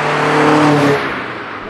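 A Citroen BX 16v drives at speed with a loud, steady engine drone and road roar that eases off near the end of the short stretch.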